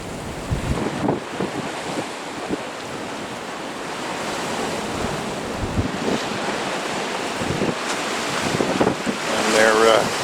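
Small waves roll in on a beach on a rising tide, a steady broadband wash with gusting wind noise across the microphone and a few brief surges, with one louder swell near the end.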